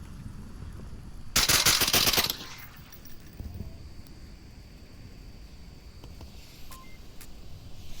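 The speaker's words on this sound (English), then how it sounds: "This is a firefight, folks." Rapid automatic gunfire bursts loudly for about a second during a firefight in the VR shooter Onward, followed by fainter scattered shots and beeps over a steady noisy background.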